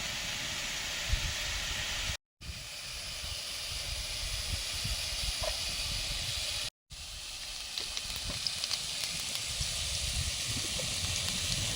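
Oil heating in a pan before soybeans go in, a steady close hiss and sizzle running throughout, with two brief dropouts.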